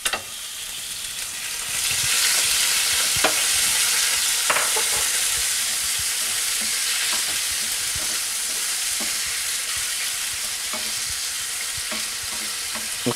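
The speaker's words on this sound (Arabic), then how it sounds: "غادي نقليوه في شويه ديال زيت زيتون" Fish frying in a little olive oil, seasoned with salt and cumin, making a steady loud sizzle that builds after the first couple of seconds, with occasional soft clicks of stirring and no talk.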